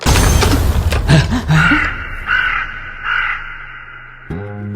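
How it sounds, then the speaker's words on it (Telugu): A crow caws several times in a row, harsh and fairly close, with a brief thud near the end. "కాకి ఈ రోజు ముద్ద పెట్టలేదమ్మా"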